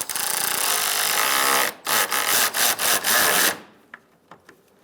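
An 8mm wrench tightens a front bumper cover bolt on a 2000–2007 Ford Taurus, giving loud, close, gritty rasping that breaks into several quick bursts, then stops, leaving a few faint clicks.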